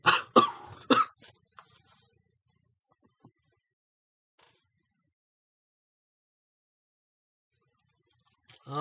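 A few harsh, close coughs in quick succession, then a brief throat clear, followed by near silence with faint rustles.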